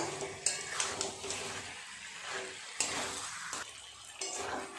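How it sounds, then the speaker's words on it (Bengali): Chicken with spices is stirred and fried in a pan over a high gas flame, with repeated scraping and clanking of a utensil against the pan over a soft sizzle. "এইভাবে চিকেনটাকে নেড়ে চেড়ে খুব ভালো করে কষিয়ে নিতে হবে"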